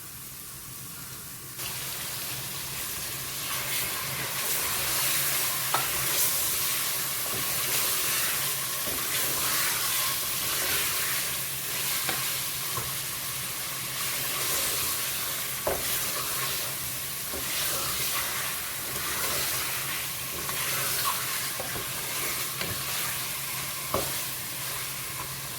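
Chicken frying with garlic in a pot, stirred steadily, giving a continuous close sizzle with scraping spoon strokes and occasional sharper clicks throughout.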